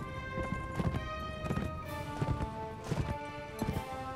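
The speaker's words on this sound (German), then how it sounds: "Sucht euch Pferde. Wir brauchen alle Reiter," Horses gallop with steady rhythmic clip-clop hoofbeats and an occasional whinny in Mount & Blade: With Fire & Sword, a game battle as riders mount up, with music-like tonal layers underneath and no speech.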